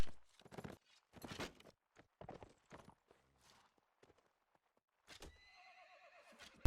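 Horses in a medieval cavalry combat video game: several loud whinnies and snorts with clattering hoof falls, ending in a sharp, bright neigh.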